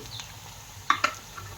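Green chillies and cumin powder sizzle with frying onions in a pan for chana dal. A soft, steady frying hiss is broken by two sharp metallic clinks of a utensil against the pan.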